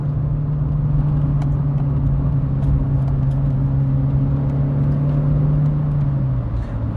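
A Volkswagen Lupo GTI drives along a sweeping road, its engine a steady, loud in-cabin drone that holds an even pitch throughout, with faint road and wind noise underneath and no talking.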